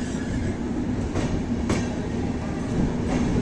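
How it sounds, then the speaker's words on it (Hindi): An express train pulls out of Dhuri junction in Punjab, its steady rumble and rail noise running continuously and fairly loud, with a few faint clacks of wheels over joints. "2 मिनट के हॉल्ट के बाद जो है ना डिपार्ट हो चली है अपनी ट्रेन"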